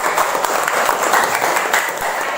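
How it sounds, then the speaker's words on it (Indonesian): A class clapping hands in applause: a brisk, steady burst of many hand claps with sharp individual slaps, close and lively throughout, with no talking. "Tepuk tangan."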